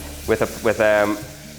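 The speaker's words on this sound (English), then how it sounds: "Oh, the sizzle. I love the sizzle you hear on the cooking shows." Butter and groundnut oil sizzle in a hot pan, a brief crackling hiss broken by a few short voiced sounds, close to the microphone.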